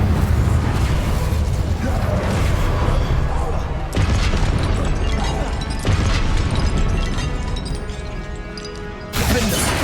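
Incendio fire spell cast in Hogwarts Legacy, a loud roaring burst with crashing, booming impacts layered over continuous combat noise and a speaking voice.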